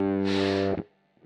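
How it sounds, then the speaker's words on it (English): A single fuzzy, heavily distorted guitar note through a DIY fuzz pedal rings out loud and buzzy for under a second, then cuts off abruptly, followed by a faint quieter tone. "another sort of fuzzy distortion."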